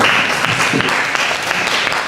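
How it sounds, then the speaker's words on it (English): An audience applauds after an academic presentation on climate change effects in marine systems, a steady wash of many clapping hands close and continuous throughout. "we give applause for the interesting presentation"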